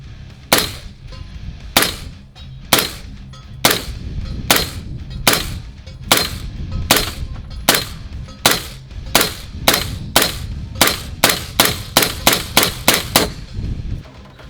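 Rapid series of suppressed 300 Blackout subsonic rifle shots at an outdoor range, about twenty sharp muffled reports, evenly spaced at first and then coming faster toward the end, loud and close with no talk.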